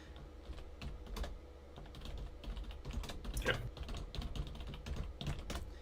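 Rapid, close typing on a computer keyboard during a livestream, a steady patter of soft key clicks with a few louder strokes, no speech.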